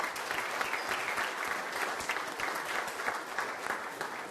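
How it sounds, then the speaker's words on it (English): A banquet crowd gives the kitchen staff a round of applause at a school spring sports banquet, a dense, even patter of many hands clapping, moderately distant and fairly quiet. "A nice round of applause for them for helping out tonight."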